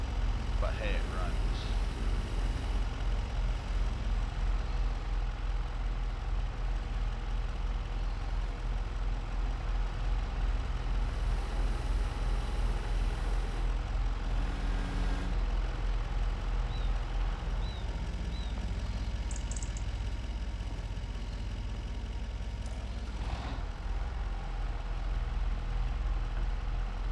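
A farm tractor with hydraulic trouble idles steadily in a low, continuous engine drone, fairly quiet and even throughout, with a few faint clanks and knocks on top and no speech.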